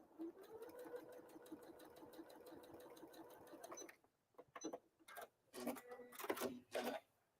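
Sewing machine stitching a quilt block along a marked line, a steady fast mechanical whir and needle patter for about four seconds, then short stop-start bursts of stitching.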